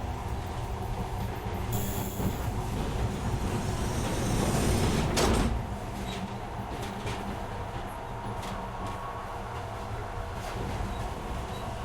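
A metro train in the game Metro Last Light Redux rumbles steadily into a station, wheels rolling and briefly squealing, a low continuous rattle that swells before settling, with no talk.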